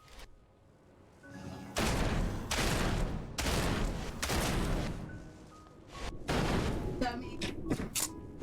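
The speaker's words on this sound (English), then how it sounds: "Alright, I think it's time for shotgun." Shotgun fire in ELEX 2, a run of loud, heavy blasts in quick succession with rumbling echoes between them, a voice speaking briefly amid the shots.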